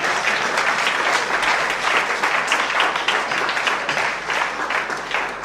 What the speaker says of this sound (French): Est-ce que quelqu'un peut acclamer très fort le Seigneur?